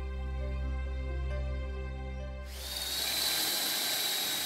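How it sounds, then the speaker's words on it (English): A drill bores a test hole into a house wall for cavity insulation, a dense loud grinding roar starting abruptly midway and holding steady after a low humming motor drone. "drilling a test hole"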